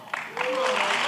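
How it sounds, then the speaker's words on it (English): A town hall crowd at Reading Regional Airport, Pennsylvania, breaks into clapping that swells within a second and holds steady and dense, with a voice heard briefly at the start. "Let's give a round of applause."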